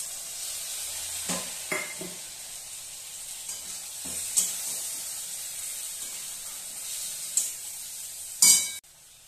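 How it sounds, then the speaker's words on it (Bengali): Okra fries in a pan as a ground paste of mustard, ginger and green chili is added, giving a steady, soft sizzle with a few utensil clinks and a louder sizzling burst near the end. "এবার আমি যে মশলাটা বেটে নিয়েছি, সর্ষে, আদা আর কাঁচা লঙ্কা, এটা আমি দিয়ে দেবো।"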